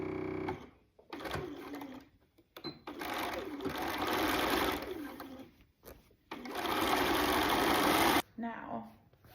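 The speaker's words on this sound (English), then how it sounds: "you're going to do a basting stitch all the way around to just hold it in place" A sewing machine runs a basting stitch around a fabric hem in a few separate bursts of steady mechanical whirring with short pauses between them, close and fairly loud, with no talking.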